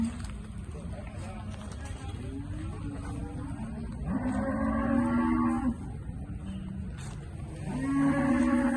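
Cows moo loudly nearby, two long low calls separated by a pause, over a steady background murmur.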